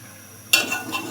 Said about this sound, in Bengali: এটা নাড়াচাড়া করে নিব।